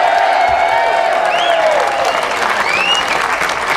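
A rally audience applauds and cheers for Jeffrey Bernstein at a May Day protest in Palm Springs, a dense, steady wash of clapping with scattered whoops rising over it for about four seconds.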